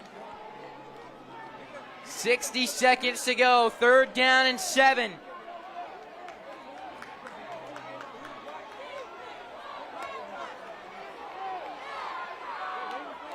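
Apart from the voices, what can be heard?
Ed White home crowd cheering at a football game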